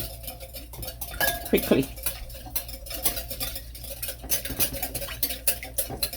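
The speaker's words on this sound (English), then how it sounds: "I'm just gonna mix this" Sugar, salt and all-purpose flour are mixed in a bowl with a utensil, a run of rhythmic clinking and scraping strokes close by, with a brief spoken word over it.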